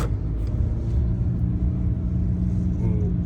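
A car driving on a road toward Verkhovyna in the Ukrainian Carpathians, heard as a steady low engine and tyre rumble that stays even and close for the whole stretch.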